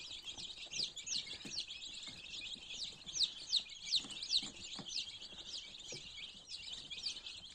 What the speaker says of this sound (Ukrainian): Ось так вони собі щебечуть.